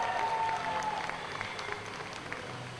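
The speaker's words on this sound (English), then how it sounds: "The crowd showing their support for both men." Boxing crowd applauding as flyweight fighters enter the ring at an FWA show in Enfield, London, a steady spread of clapping and crowd noise throughout, with a brief tone near the start.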